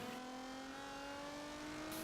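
A car drifting in the racing game Forza Motorsport 7, with a steady, sustained engine whine holding a high revving tone and faint tire noise, heard alone and fairly quiet.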